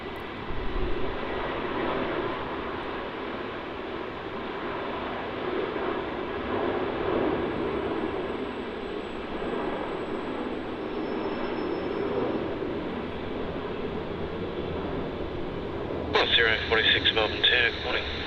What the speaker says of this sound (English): JQ972 off to Perth. It's an A321 non-neo. Just about to rotate here off runway 16.